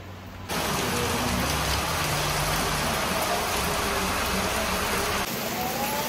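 Steady rain pours outdoors in an even, broadband hiss that swells in after a brief quieter moment and holds constant, with a faint low engine rumble underneath.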